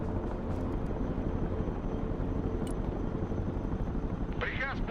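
A Chinook helicopter in the war game Broken Arrow gives a steady, loud rotor drone that fills the whole stretch, with a brief whine near the end. Voices talk over it.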